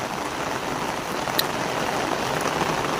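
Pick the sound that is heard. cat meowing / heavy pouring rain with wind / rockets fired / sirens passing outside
heavy pouring rain with wind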